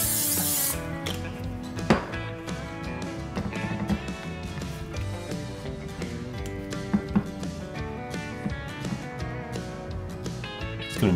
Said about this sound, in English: I'm going to put some nonstick spray in a little pan here